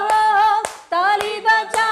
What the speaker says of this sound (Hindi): ताली बजाएंगे, ताली बजाते हुए प्रभु यीशु मसीह को, राजाओं का राजा को आराधना करेंगे।